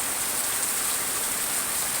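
Heavy rain pours down in Cikarang, a dense, unbroken roar of falling water with no voices.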